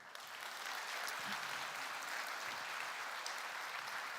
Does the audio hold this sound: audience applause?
yes